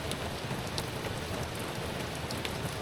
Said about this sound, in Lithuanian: Dabar biškį gavom lietaus, bet esam po labai fainą pavėsinę.